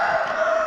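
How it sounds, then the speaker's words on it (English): A rooster crows in a sustained, strained call, fairly loud and steady for under a second, with no other sounds around it. "got a rooster here crowing in the background"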